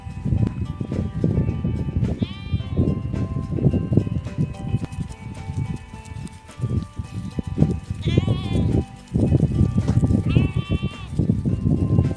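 A herd of goats runs through an outdoor farm area in Saudi Arabia, with hooves scuffling and repeated bleats scattered throughout, mixed with someone talking over the steady commotion.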